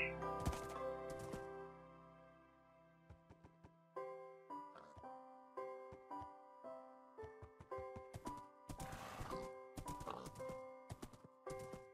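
A horse in the Minecraft video game walks with steady clip-clop hoofbeats, each step a crisp, even knock, alongside other game sound effects.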